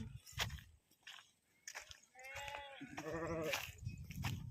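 Sheep and lambs bleat several times nearby, wavering cries overlapping one another, with rustling and movement between calls.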